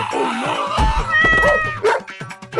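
A dog barks, yips and whimpers while cats meow in a close, lively exchange, with the calls overlapping and rising and falling in uneven bursts.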